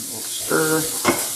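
Onions sweat in a hot frying pan as they are stirred, a close, lively sizzle broken by two quick scraping stirs within a brief moment, with no speech.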